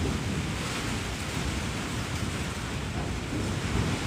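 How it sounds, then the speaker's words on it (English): Strong wind blowing outdoors, a steady, loud broadband roar that stays even for the whole stretch with no voices over it. "Like, do you hear that wind?"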